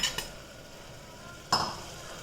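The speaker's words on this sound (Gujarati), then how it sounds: "હવે એમાં નાખી દઈશું ટમેટા" Tomatoes drop into a pan with hot oil and reddened onion mixture, a soft sizzle rising briefly with a couple of metal utensil clinks against the pan, otherwise a low frying hiss.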